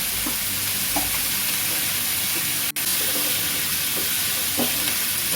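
Chicken frying in a pan with chopped capsicum, tomato, salt and red chilli powder, a continuous bright sizzle with a few soft stirring scrapes and one sharp knock partway through.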